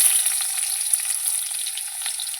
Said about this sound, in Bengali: আমার তেল গরম হয়ে গেছে, এই যে তেজপাতা দিয়ে দিলাম, কুচনো পেঁয়াজ দিয়ে দিচ্ছি।